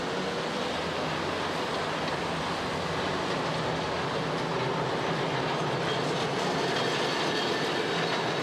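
Southerner express train at Christchurch station, a steady broadband rumble of rail cars with wheels and track noise filling the whole stretch, loud and continuous with no talk.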